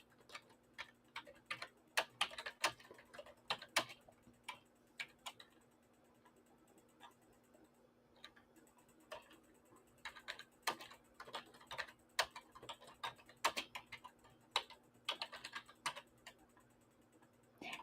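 Someone types on a computer keyboard in quick irregular bursts of close key clicks, with short pauses between words, over a faint steady hum.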